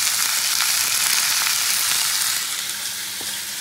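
A spice paste with salt and turmeric fries in a pan, giving a loud, dense, continuous sizzling hiss that eases slightly toward the end, with no talking.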